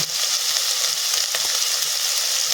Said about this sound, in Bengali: আমার আদা রসুন এখন হয়ে গেছে। আমি এবার গুঁড়ো মশলাগুলো অ্যাড করে দিচ্ছি।